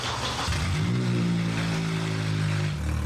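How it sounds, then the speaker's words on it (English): A Toyota Prius runs with its catalytic converter stolen, a loud, deep, continuous rumbling drone that swells steadily and holds for several seconds, close and unbroken, with no talking. "then there was a loud rumbling noise in the car"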